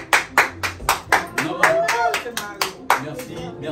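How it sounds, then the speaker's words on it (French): Rhythmic clapping at a musical comedy celebration, about a dozen sharp, evenly spaced claps close by, with a voice briefly singing or speaking over the middle. "Tim, on applaudit Judson, s'il vous plaît."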